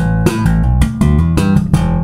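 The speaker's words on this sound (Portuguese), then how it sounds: "Então o som comprimido tá legal." Punchy electric bass notes played in a quick riff through a Fuhrmann compressor pedal, each attack even and controlled with a tight, compressed sustain, no talking.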